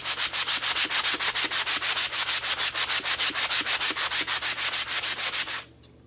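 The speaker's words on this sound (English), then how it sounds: "I'm just going to sand the inside and you'll see a lot of that wood grain" Rapid, rhythmic rasping of sandpaper rubbed by hand back and forth on the inside of a wooden piece, close and steady, about two dozen strokes before stopping abruptly.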